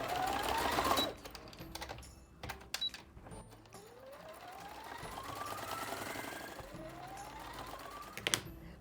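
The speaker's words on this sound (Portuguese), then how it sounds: "Então, eu vou costurar no risco também," A sewing machine stitches fabric for an Easter bunny plush, running in steady whirring bursts with short pauses and a faint background voice briefly present.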